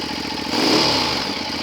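A Ducati Diavel motorcycle engine revs in a brief loud burst, its close rough growl swelling and then easing off.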